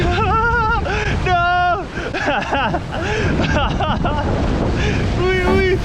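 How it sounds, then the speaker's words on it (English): Gusting wind buffets the microphone on a fishing boat off Hawaii's Big Island, a continuous rough rumble beneath loud, excited shouting voices. "here comes the wind"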